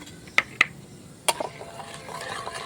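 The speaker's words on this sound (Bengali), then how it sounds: "তেলের মধ্যে এলাচ, লবঙ্গ আর দারুচিনি দিয়ে দিচ্ছি আমি।" Cardamom, cloves and cinnamon in hot oil for chicken biryani, a low sizzle with a few sharp clinks of a spoon against the pan, close and fairly quiet.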